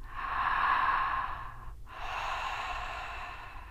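Open-mouth breathing during a breathwork session, with a long, loud, airy inhale, a brief pause, then a steady exhale, close and alone.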